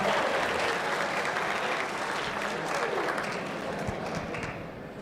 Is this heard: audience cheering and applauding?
yes